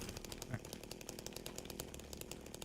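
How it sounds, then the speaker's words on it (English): A chainsaw buzzes in the Silent Hill 2 video game, a faint, sputtering motor drone with rapid rhythmic pulses, low in the mix and heard as if from some distance. "There's a fucking chainsaw. I can hear the bastard"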